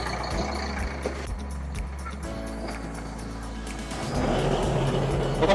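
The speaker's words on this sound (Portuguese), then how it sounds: "Agora a gente vai andar com ele para a dianteira." An Estradeiro vehicle with inverted steering creeping forward, with a low engine rumble, a few knocks and clunks, and the noise swelling louder toward the end.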